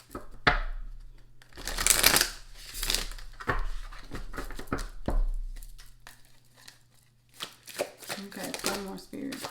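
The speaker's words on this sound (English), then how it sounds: "I'll just reshuffle them." Tarot cards reshuffled by hand in soft, irregular bursts of riffling and sliding, close and quiet, with pauses between.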